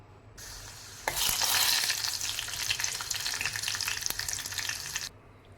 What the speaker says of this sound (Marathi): दाणे तळून घेते